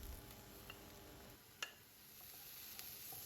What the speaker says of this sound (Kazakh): Сәбізімізді 1-2 минуттай қуырып аламыз.